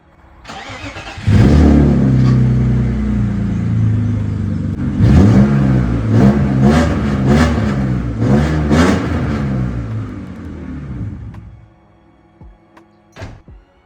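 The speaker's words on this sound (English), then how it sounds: "The car is now ready to essentially turn over, so I'm just going to do that just now" A drift car's engine cranks and catches, then revs in repeated loud surges at close range before cutting off, followed by a few faint clicks in near silence.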